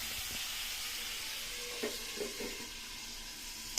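Chicken feet sizzling steadily as they sauté in a hot pan, a continuous bright hiss with a few soft clinks of stirring, no talking.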